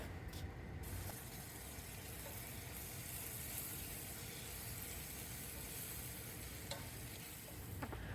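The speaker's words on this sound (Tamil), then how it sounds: "1 நிமிஷம் வரைக்கும் கைவிடாமல் கிளறி வதக்கணும்" Egg pepper masala being stirred and sautéed over a low flame in a pan, a steady soft sizzle with scraping stir strokes running throughout, close and continuous with no talking.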